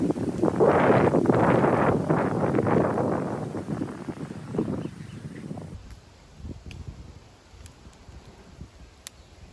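Gusty outdoor wind buffets the microphone and rustles dry leaves, loud and broadband for the first five seconds before easing to a softer breeze with a few faint ticks.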